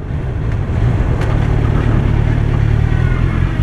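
A Kawasaki Z1000SX Ninja 1000 sports tourer runs at speed while shifting down through the gears, a loud, close, continuous engine drone with heavy wind rush and no voices.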